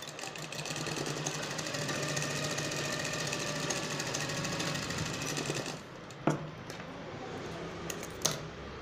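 A sewing machine runs steadily for several seconds while double stitching a pocket into palazzo pants, a close, continuous whirring hum that stops abruptly, followed by two sharp clicks in the quieter stretch.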